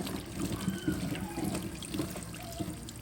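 Water trickles and splashes in a small container as mushrooms are rinsed by hand, close and fairly quiet, with soft uneven sloshing.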